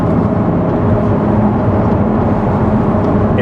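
Gen 1 Audi R8 V10 on stock headers with a Valvetronic Designs exhaust cruising in sixth gear, heard from the cabin as a steady, even, low engine drone with road rumble, constant in level and without voices.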